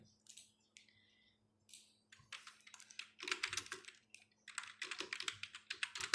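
Someone types on a computer keyboard in a quiet room: sparse single key taps at first, then quick bursts of close, crisp clicking, with no talking.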